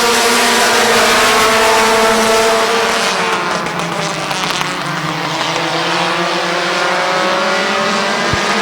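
Race cars roar around the Midvale Speedway dirt track, several engines droning loudly and shifting pitch as they pass close by, one car surging through the infield grass, the din continuous with no voices.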